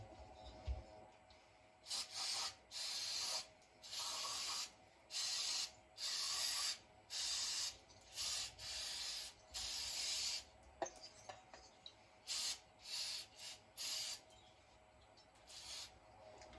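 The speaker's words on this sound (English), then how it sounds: "Gonna wash that up with a little brake cleaner" Brake cleaner sprays from an aerosol can in a dozen or so short hissing bursts, each lasting about a second with brief gaps between them, fairly close but quiet overall.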